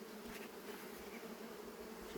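Honey bees hovering around their hives make a continuous, even buzzing hum, soft and steady with no voices over it.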